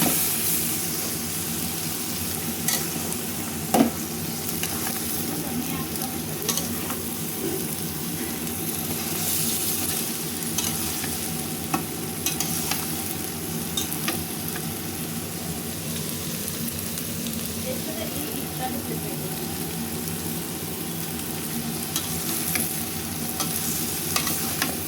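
Peas and bean seeds fry in a pan for a vegetable curry, a continuous sizzle with repeated scraping and clinking of a spatula as they are stirred, no talk.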